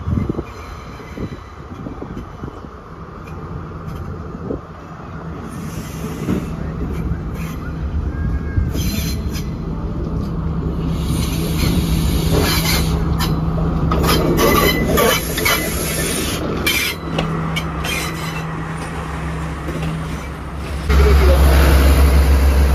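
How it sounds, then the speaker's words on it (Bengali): A train in Sri Lanka rolls in near a bridge with a steady, swelling rumble of wheels and cars, high metallic squeals overhead and a loud surge near the end, while people talk throughout. "চলে এসেছে দ্য ট্রেন, আমরা যেটার ওয়েট করছিলাম এতক্ষণ"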